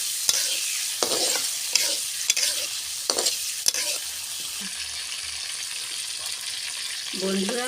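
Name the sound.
prawns frying in a pan with salt and turmeric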